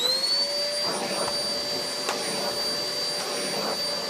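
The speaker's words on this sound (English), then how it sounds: "Doing the vacuuming." A vacuum cleaner runs steadily in a bedroom, a close continuous whine with a high tonal hum, with faint bumps and shifts as it moves around and no talking.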